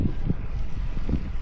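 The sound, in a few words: strong wind on Mont Ventoux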